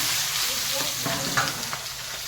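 Sliced onion and potato frying in oil tempered with nigella seeds, dried red chilli and kasuri methi, giving a loud continuous close sizzle with a couple of faint stirring knocks.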